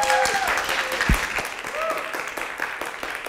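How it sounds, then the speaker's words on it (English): An audience at a tech conference talk applauds a speaker being introduced, a dense, steady clapping from a room full of people, heard up close throughout with a brief voice underneath. "So give a round of applause to Tracy."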